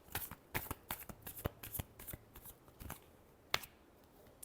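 Tarot cards shuffled by hand in a quiet room, a run of crisp riffling flicks and soft slaps at an uneven pace, close and fairly quiet, with no talking.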